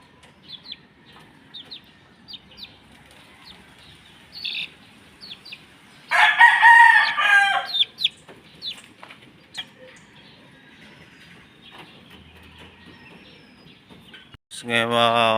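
A Pumpkin Hatch gamefowl rooster crows loudly and nearby, with scattered clucks and soft chirps around it, a quiet farmyard between calls, and another bird call starts at the end.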